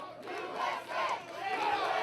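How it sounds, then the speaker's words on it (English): A wrestling crowd at an NWA WildKat show chants "USA" for an Army Sergeant wrestler, a loud, sustained roar of many voices with a rising, rhythmic swell. "The chants of USA for the Army Sergeant."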